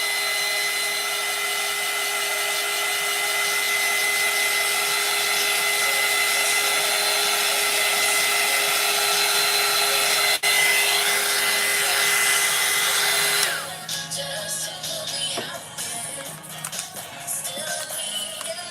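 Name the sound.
hair dryer blow drying a craft piece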